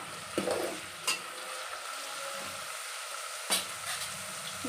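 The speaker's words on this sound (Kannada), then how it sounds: "ನೀಟಾಗಿ ಎಣ್ಣೆಯಲ್ಲಿ ಫ್ರೈ ಮಾಡ್ಕೊಳ್ಳಿ ಇದನ್ನು ಗ್ಯಾಸ್ ಸ್ವಲ್ಪ ಹೈ ಫ್ಲೇಮಲ್ಲೇ ಇಟ್ಕೊಂಡಿರಿ" Ridge gourd fries in oil over a high gas flame, giving a soft continuous sizzle with a few brief clanks of a utensil against the pan.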